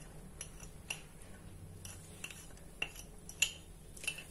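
A spoon scrapes and clinks against a bowl while cake batter of flour, sugar and cream is mixed, giving faint, irregular taps and light scraping with a few sharper clicks, close and quiet with no talking.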